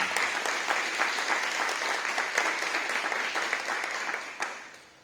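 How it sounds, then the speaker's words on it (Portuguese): A crowd applauds steadily and loudly, a dense wash of clapping that fades away near the end. "Aplauda o Senhor com alegria."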